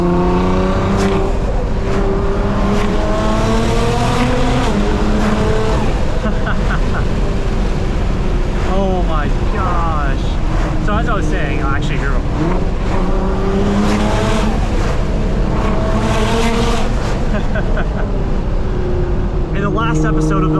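A 700 hp Nissan R35 GT-R rips through a canyon between rock walls, its engine rising and falling in repeated hard revs and gear changes, loud and close, with brief tire squeal.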